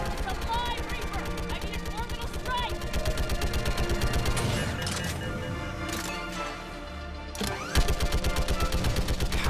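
Rapid automatic gunfire in the video game Mass Effect 3, loud, dense bursts that run almost continuously with occasional heavier impacts, while a voice talks over the shooting.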